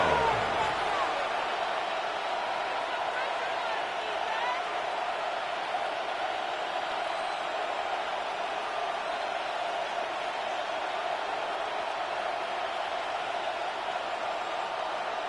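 Steady roar of a stadium crowd in an American football video game during a Broncos–Vikings matchup, a dense, constant wash of cheering noise that holds evenly throughout with no distinct breaks.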